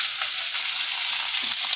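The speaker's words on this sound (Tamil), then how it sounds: "இப்போ கொஞ்சம் இஞ்சி சேர்த்துடலாம்." Ginger frying in hot oil in a pan for chutney, a steady close sizzle with faint stirring underneath.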